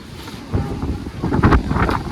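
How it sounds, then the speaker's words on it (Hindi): Strong wind buffets an outdoor microphone in steady, rumbling gusts, roaring close and loud with surging peaks throughout. "देखिए कितना हवा चल रही है"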